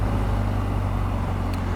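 A 2021 BMW R nineT Scrambler motorcycle pulls away, a steady low engine drone with road rumble holding at an even level throughout and no voices.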